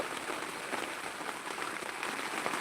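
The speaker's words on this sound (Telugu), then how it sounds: "వర్షం అయితే చాలా ఎక్కువ వర్షం చాలా ఎక్కువగా వస్తుందండి" Heavy rain pours down in a dense, even hiss of countless drops striking surfaces, continuous and unbroken, with no voices.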